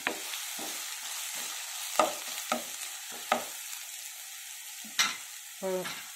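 Chopped onions, green chillies and tomatoes fry in a pan for drumstick masala, with a soft sizzle broken by several sharp scrapes and knocks of a spoon stirring, fairly close and without talk.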